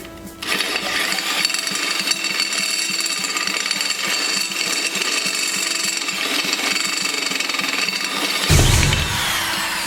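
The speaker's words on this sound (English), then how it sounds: "I'm going to use this step bit to get close" A step bit bores through metal on a lawn mower tow vehicle build, a steady loud grinding whir that runs for several seconds, then surges briefly near the end.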